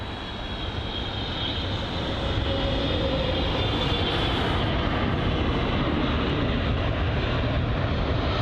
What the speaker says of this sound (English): So the Boeing 777-300ER from British Airways this is, and this has arrived from New York JFK